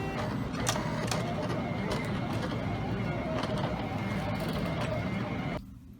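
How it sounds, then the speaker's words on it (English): A Silhouette Cameo 2 cutting machine slices a sheet of shrink plastic, giving a steady, close mechanical whir with faint repeated clicks that carries on evenly before stopping abruptly near the end. "we are going to cut this on my trusty Cameo 2"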